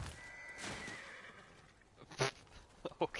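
A horse in a video game neighs in a drawn-out whinny, followed by a few sharp clip-clop hoof hits, moderately close against a low background hum and without speech.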